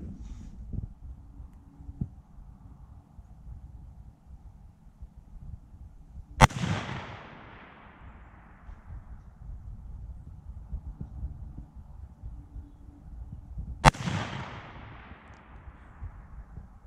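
Two sharp gunshots at an outdoor firing range in the snow, about seven seconds apart, each a loud crack with a fading ring over a quiet low rumble.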